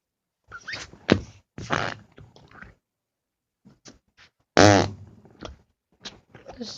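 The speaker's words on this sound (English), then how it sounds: "We're gonna do fart noises today." Flarp noise putty squished in a container gives a series of wet, spluttering fart-like bursts, one long loud one among several shorter, close and with pauses between.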